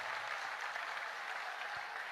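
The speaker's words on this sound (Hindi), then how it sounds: "ये एक बार ताली जोरदार बजा करके धन्यवाद दो।" A large audience at a live religious gathering in Mathura applauds loudly, a dense, steady wash of clapping that fills the whole stretch without a break and with no speech over it.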